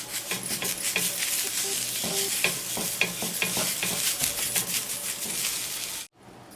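Half an onion rubbed across a hot dosa pan gives a loud, continuous sizzle with rhythmic scraping strokes, close by and alone, cutting off sharply just before the end.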